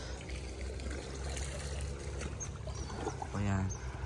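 Water flowing in a river where people do laundry in Abra, a steady trickling wash running throughout, with voices talking over it and a louder splash near the end.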